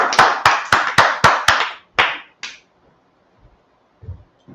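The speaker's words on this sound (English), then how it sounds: "Okay, clap it up." A church congregation claps in a quick, even rhythm of about six sharp, close claps. A few scattered claps follow before the sound fades to near silence.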